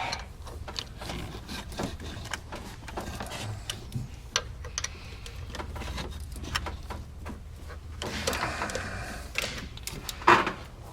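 A 10mm ratchet snugs the three pulley bolts on a Land Rover Discovery Series II power steering pump: quick, close metallic clicking repeats steadily over faint workshop background noise.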